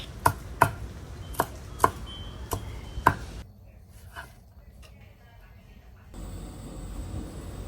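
A knife chops coriander and culantro sharply on a board about six times in a quick, uneven rhythm, then the work goes quiet with faint background noise.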